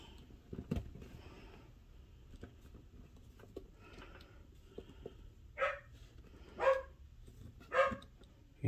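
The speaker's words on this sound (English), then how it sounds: "You can hear the dog." A restless dog gets rowdy indoors, giving three sharp barks spaced about a second apart toward the end after some quiet shuffling, moderately near and alone.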